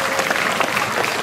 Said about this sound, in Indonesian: Tepuk tangan buat Man 5.